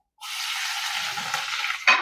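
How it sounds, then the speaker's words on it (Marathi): Crushed garlic and mustard seeds dropped into hot oil for tempering, an abrupt loud hiss that holds steady for nearly two seconds, ending with a sharp clink. "सर्वप्रथम तेल, मोहरी, लसूण चेचून घेऊन फोडणीमध्ये टाकूया।"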